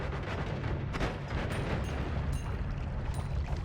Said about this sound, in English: The explosions just kind of don't even try.